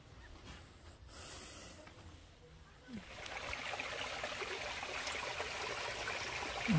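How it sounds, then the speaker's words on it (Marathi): Clear stream water flows in Sandhan Valley, a soft, steady rushing trickle that grows louder and closer partway through, with no talk over it. "बघा तुम्ही आता इथे पाणी किती छान वाहत आहे."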